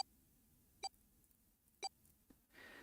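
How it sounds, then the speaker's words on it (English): Bracelet in Zero Escape: 999 gives cold electronic beeps, two short sharp tones about a second apart with a third starting at the end, quiet and isolated over faint background noise. "His bracelet gave a cold electronic beep."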